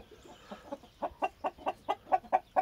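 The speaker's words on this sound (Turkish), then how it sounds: "Şimdi üçüncü horozu getirelim, yine devam edelim." An Indian breeding rooster clucks in a rapid, regular series of short calls that grow louder and closer.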